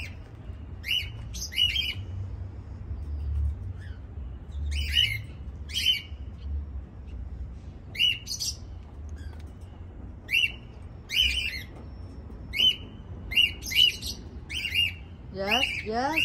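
Lovebirds out in the open give repeated sharp chirps and squawky calls in short clusters, spaced unevenly over a low, steady background rumble.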